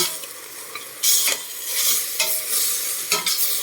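Ginger being sautéed in a pan for Filipino chicken tinola, a close continuous sizzle broken by several bursts of scraping and stirring strokes, with no voices.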